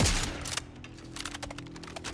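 Alternate fire from a weapon in a video game gives a loud opening blast followed by a fast train of rapid shots.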